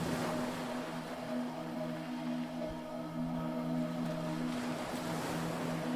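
Ocean waves washing in a steady, continuous surge with a low rumble underneath, calm and even throughout, no voices.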